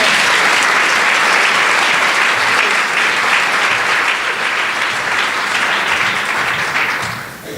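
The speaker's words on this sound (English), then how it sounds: "Let's give another round of applause to our performers." Audience applause for performers at the opening of the SRI Fall Meeting 2017, held at Atlanta Neighborhood Charter Elementary and Middle School. The dense, steady clapping of a crowd fills the room for several seconds, then thins and fades at the end.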